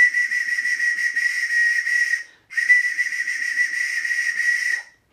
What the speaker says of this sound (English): That's quite a high whistle sound, isn't it?